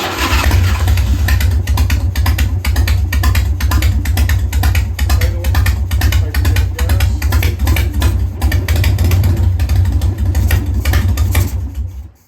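A 1993 Harley-Davidson Softail motorcycle idles loud and close, its engine throbbing in a steady lumpy rhythm with mechanical ticking before dying away at the very end.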